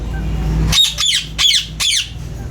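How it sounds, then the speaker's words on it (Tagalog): Four loud, harsh ringneck parakeet squawks in quick succession, each a raspy descending call, close by over a low background hum. "sana marinig na lang niya itong mga ringneck natin na nag-iingay"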